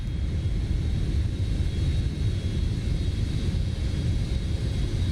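Steady low engine drone of a heavily loaded freight airplane in flight during a Microsoft Flight Simulator approach, a continuous broadband rumble heard alone without talk.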